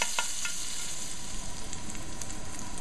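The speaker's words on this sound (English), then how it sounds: "I'm going to fry these up as well" About three anchovies fry in a pan, giving a constant close sizzle with a few brief crackles and spatters early on, steady and without voices.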